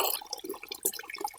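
Water draining from a household water heater tank, a short burst of trickling, dripping and splashing liquid heard close up with no talk.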